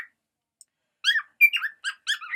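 A pet bird calls nearby, first a brief faint chirp, then after a pause a loud, close series of squawks and whistled chirps in quick bursts, with no voices.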